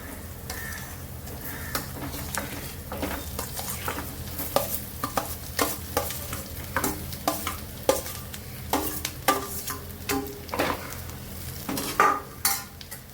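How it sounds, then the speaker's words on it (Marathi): Diced potato and turmeric are stirred through hot oil in a pan, with a steady sizzle under a run of distinct spoon-scraping strokes and clinks, close up and with no talking. "हळद सुद्धा छान परतून घ्यायची तेलावरती. यामध्ये आता बटाटा घालून घ्यायचं."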